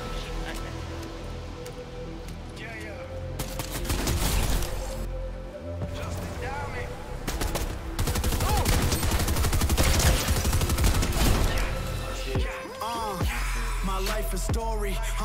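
Rapid bursts of gunfire and machine-gun fire from a shooting video game, dense repeated volleys with crashes and impacts, heard under players talking and background music.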